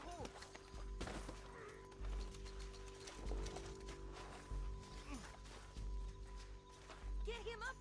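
Horse hooves clop in the video game Red Dead Redemption 2, a rhythmic rolling clatter mixed with game sounds, music tones and occasional voices.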